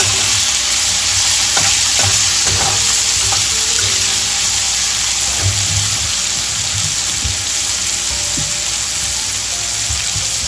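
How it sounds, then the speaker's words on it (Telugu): Sliced bitter gourd fries in a pan for a crispy Telangana-style fry, a loud continuous sizzle broken by repeated scraping and stirring knocks from a utensil against the pan, close and with no talk. "సో ఇప్పుడు కాకరకాయలని ఒకసారి కలిపేసుకోవాలి మంచిగా."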